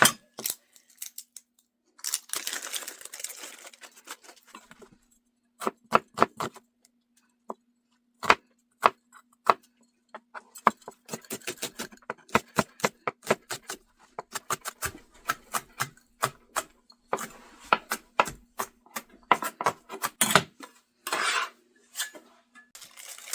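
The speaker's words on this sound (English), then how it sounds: "I'm going to cut off the top, cut off the bottom," A knife chops an onion on a cutting board: sharp, irregular knocks and clacks, close and clear, some in quick bursts, others spaced apart, with no talk.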